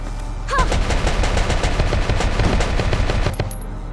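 Rapid gunfire rattles through a Valkyria Chronicles battle, loud bursts of machine-gun shots in a fast, steady stream that run from start to finish.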